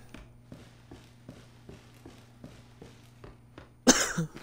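A single sharp, loud cough bursts out near the end, close to the microphone, after a stretch of soft, regular footsteps from a Resident Evil VII playthrough.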